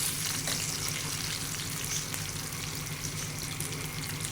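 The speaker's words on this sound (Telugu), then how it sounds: "ఇదిగోండి బాగా ఫ్రై అయిపోయాయి." Pieces of kingfish frying in hot oil, a steady dense sizzle with bubbling crackle held at an even level throughout, close up, with no talking.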